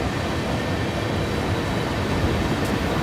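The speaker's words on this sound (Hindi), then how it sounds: "देखिए यहाँ से ट्रेन आ रही है" A freight train with loaded cargo rumbles steadily at around 41 miles per hour in the video game Train Sim World 5, a continuous broad low roar at even loudness with no talking.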